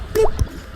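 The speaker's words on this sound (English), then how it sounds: "That was the sound of my earring falling into the toilet." An earring drops into toilet water with a quick, bright plop and a faint follow-up drip, close and brief in a quiet room.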